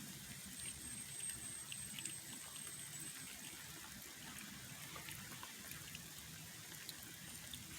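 Heavy rain pouring outside a parked bus, heard as a continuous, even hiss and patter of water that stays steady throughout with no talk.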